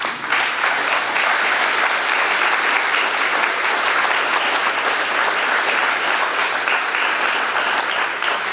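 Hall of fame induction ceremony audience gives a long, steady round of loud applause after a speech, dense clapping filling the room for several seconds without voices.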